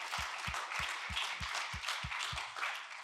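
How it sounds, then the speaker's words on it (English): Audience applause at an awards announcement, fairly faint and distant, with a steady rhythmic beat of synchronized claps running through it at about three per second. "Again, applause."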